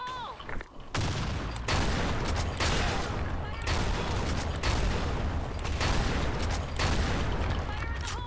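Dense, continuous gunfire and explosions from an online multiplayer shooter game fill the mix, with sustained bursts and booming impacts running nearly the whole time after a brief quieter opening, loud and close.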